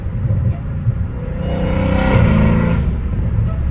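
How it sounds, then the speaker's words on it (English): A car engine revs hard in low gear, its exhaust building into a loud, sustained roar that rises and swells midway, then eases back while staying close and continuous with no talk. "The exhaust is everything."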